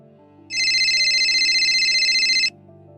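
A mobile phone ringtone sounds for about two seconds, a bright steady electronic trill that starts abruptly, holds at an even loudness and then cuts off, with a low soft background tone underneath.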